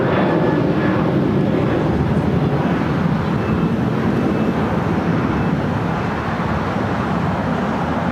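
A Qantas Airbus A330 taxis at LAX toward the Tom Bradley terminal, a loud, steady engine roar and broad rushing hum holding constant throughout, with no talk over it.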